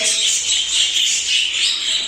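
Young budgerigars about four months old chirp and squawk together in a dense, steady high-pitched chatter that fills the whole stretch, close and loud, with no talk.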